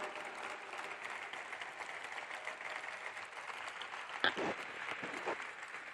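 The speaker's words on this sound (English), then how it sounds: "I would like them to come up on stage here so we can applaud them" An event audience applauds an office team called up on stage, a faint, even patter of many hands from a distance, with one sharper nearby clap or knock near the end.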